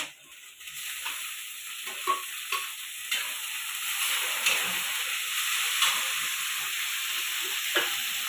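Green chilli and tomato sizzle in hot oil in a home kitchen pan, a steady close hiss with scattered crackles and pops throughout, no talking.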